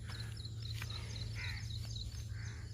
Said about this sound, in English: there are so many crows in this country